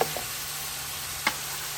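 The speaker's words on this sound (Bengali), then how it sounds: "এখন একটু নাড়ো একটু মাংসটা নাড়ো" Meat frying in a pan as it is stirred, a quiet steady sizzle with two short scraping clicks of the spoon, close and alone without talk.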